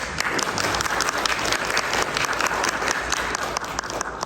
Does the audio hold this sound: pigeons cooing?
no